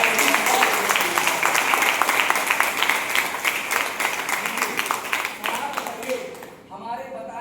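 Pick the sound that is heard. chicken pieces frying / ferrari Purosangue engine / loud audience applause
loud audience applause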